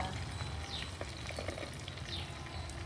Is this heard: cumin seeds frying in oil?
yes